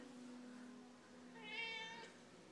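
A house cat meows once, close and fairly quiet, a drawn-out rising call in the second half after a soft low murmur.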